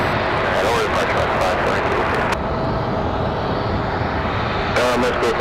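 A departing airplane's engines roar loud and steady at night at Raleigh Durham International Airport, a broadband rumble that briefly eases then swells again, with voices talking over it.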